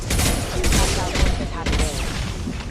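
Rapid bursts of gunfire and explosive booms in the video game Mass Effect 2, dense and continuous with sharp crackling shots layered over one another, loud and close.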